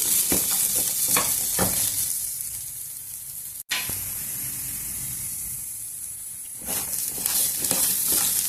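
Potato pieces fry in a wide kadai with a loud, close, continuous sizzle, broken by scraping stirs and bursts of spattering hiss.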